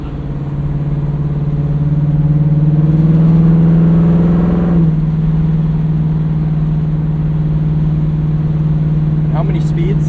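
An old 1968 Ford Mustang Fastback V8 with a three-speed transmission, heard from inside while driving: a steady, loud, low engine drone that rises slightly, eases, then holds even. A brief voice comes in near the end.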